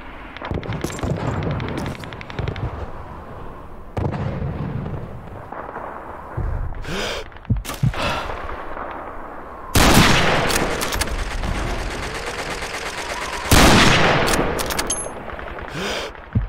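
Gunfire during a Stalingrad city hall battle in the Call of Duty 2 video game with the Back2Fronts mod: sharp shots and bursts, with two loud heavy blasts later on.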